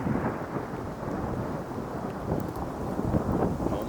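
A thunderstorm in Greater Manchester rumbles with low, rolling thunder under steady rain and gusting wind noise on the microphone during an outdoor walk, loud and continuous with no one talking.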